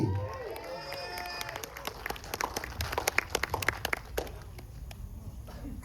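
Applause at a cinematic concert event, scattered clapping from a small crowd, moderately close and somewhat sparse, rising briefly mid-clip with faint voices underneath.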